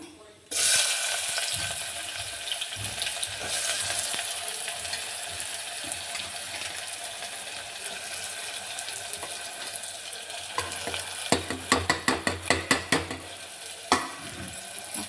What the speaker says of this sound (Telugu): ఆయిల్ వేడెక్కింది. ఇప్పుడు వేస్తున్నాను. ఉల్లిపాయ ముక్కలు వేస్తున్నాను.